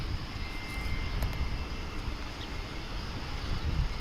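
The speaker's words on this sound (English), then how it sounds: "Here comes the flight from Austin. Flight 2563, American Airlines." An American Airlines jet arriving from Austin at Dallas/Fort Worth International Airport gives a low, fairly quiet engine rumble mixed with wind noise, steady across the few seconds, with no voices.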